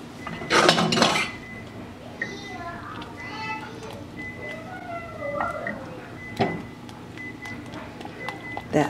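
Blueberry filling thickens as it is stirred in a pan, giving clinks of a utensil against cookware and scraping stirs, with a louder clatter near the start and at about six seconds. Faint voices, including a child's, murmur in the background.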